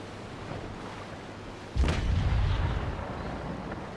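A heavy cannon broadside from a Trincomalee frigate armed with carronades in the naval combat game Naval Action, one deep booming blast about midway with a rumbling tail that lingers over low ambient noise.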